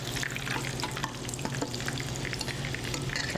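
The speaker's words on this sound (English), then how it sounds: "Frying it all up." Battered salt cod frying in an oil-filled skillet, a dense steady sizzle and crackle heard up close, with no talking.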